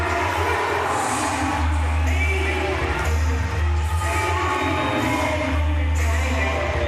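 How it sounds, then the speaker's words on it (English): Crowd at the Paralympic powerlifting finals in Paris cheering and applauding after a record lift, a loud sustained roar with whoops and a low hum underneath. "Takes the applause of the crowd."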